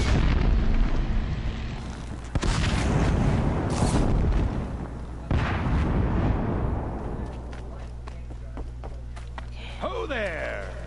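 Blaze canisters shot and exploding in the video game Horizon Zero Dawn, a few loud booming blasts in a row with rumbling tails, followed by calmer game ambience and a brief voice.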